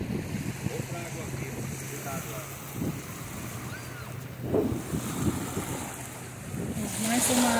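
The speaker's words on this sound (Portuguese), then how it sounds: "Aqui na beira da praia." Waves wash in at the water's edge on the beach at Ilha do Cardoso, with soft surges building and breaking under steady wind buffeting the microphone, and voices murmuring faintly in the background.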